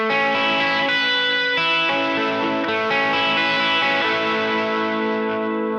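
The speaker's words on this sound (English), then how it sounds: "It is a Dimension C and a Flex Vibe 24 in the HX Stomp, the vibrato, and it sounds like this" An electric guitar runs through a Dimension C chorus and a Flex Vibe vibrato on an HX Stomp, playing dense sustained chords with a warm, wavering shimmer, loud and alone.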